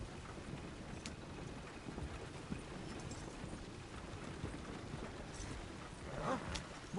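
Horse hooves clip-clop at a steady trot in the Red Dead Redemption 2 game, faint and continuous over a rumbling outdoor ambience, with a brief louder burst near the end.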